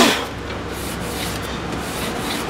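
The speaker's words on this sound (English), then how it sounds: "All I'm simply doing is getting some of this rust off, and I'm going to make it blue again." Abrasive rubbing scrapes rust from a Ford Mustang Mach 1 honeycomb rear panel, a steady, loud gritty friction noise with a sharper stroke at the start and faint rhythmic pulses.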